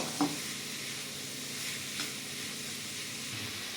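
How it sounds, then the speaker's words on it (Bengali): Salted papaya is stirred in a pan over a gentle sizzle, with a couple of soft scrapes against a steady faint frying hiss. "নুন দিয়ে ভালো করে একটু নেড়ে দিয়ে"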